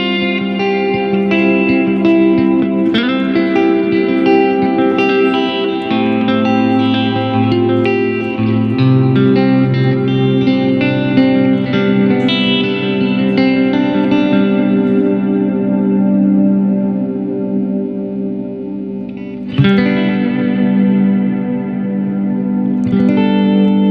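An Earthquaker Devices Avalanche Run reverb pedal with decay turned all the way up rings out in a long, dense, shimmering guitar wash that keeps sustaining and slowly thins, with a fresh note struck near the end.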